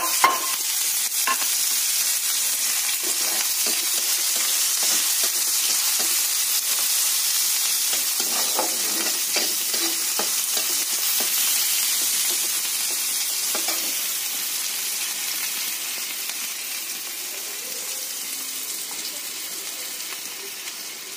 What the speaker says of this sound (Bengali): লঙ্কা জিরে ফোড়ন দিয়ে দিচ্ছি, এবার পেঁয়াজটা দিয়ে দিলাম